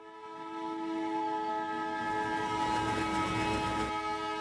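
A goods train's horn blares loud and sustained as the train arrives, over a steady rumbling of rolling wagons that builds and holds throughout.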